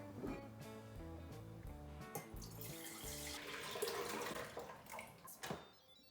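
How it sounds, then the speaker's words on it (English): Milk pours steadily into an Instant Pot for a few seconds, a soft continuous liquid stream with faint clinks and bumps, heard alone without talk. "pour my milk into my Instant Pot"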